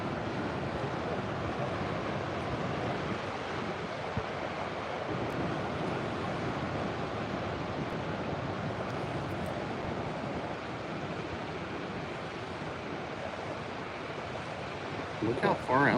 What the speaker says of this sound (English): Some pretty big waves over there.